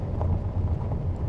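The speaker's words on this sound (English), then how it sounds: "Looks like gravel. Sounds like gravel too." A truck rolls over gravel in the video game Japan Truck Simulator, giving a steady low rumble with a rough, grainy texture that holds throughout, with no one speaking.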